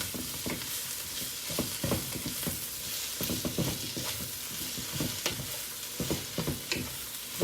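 Greens frying and sizzling in a pan, a steady hiss broken by repeated stirring clatters and scrapes at close range, with no talking.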